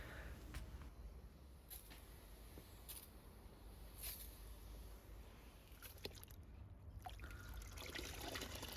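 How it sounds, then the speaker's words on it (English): Sponge swished and rinsed in a bucket of rinseless car wash water, a steady close trickling and sloshing with occasional small splashes and clicks throughout. "So you just want to rinse out the sponge or your wash media there."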